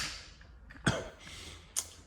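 Two short coughs, the first sharper and louder, the second a lighter follow-up, close to the microphone over a quiet background.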